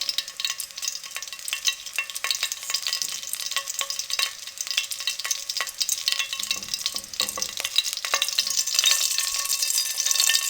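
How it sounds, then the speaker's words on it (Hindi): Whole cumin seeds frying in oil in a kadhai for kadhi pakora, producing a bright steady crackling sizzle with quick popping ticks that grows louder toward the end. "एक से 2 मिनट के लिए ज़ीरे को अच्छे से फ्राई कर लेंगे।"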